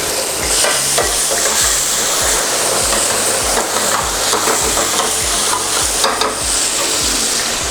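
Mushroom chop masala fries at a street stall, a loud dense sizzle with rapid, rhythmic scraping of a spatula across the pan throughout.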